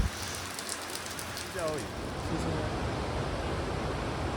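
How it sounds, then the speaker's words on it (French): Steady rain falling outdoors on the road from Popayán toward El Tablón, a dense continuous hiss that grows slightly heavier partway through, with a brief faint voice-like sound early on. "Il pleut."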